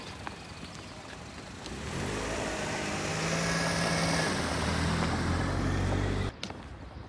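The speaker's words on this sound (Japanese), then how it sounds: "ちょっと車の音にちょっと微妙に反応。" A car passes along a suburban road during a walk with a border collie puppy, its tyre and engine rumble swelling over a few seconds and holding steady before cutting off abruptly.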